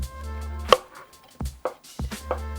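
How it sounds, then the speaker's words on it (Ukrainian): A knife slices champignon mushrooms thinly on a board, a handful of separate sharp cuts spaced unevenly, close and fairly quiet. "І ще наріжу та посмажу шампіньйони."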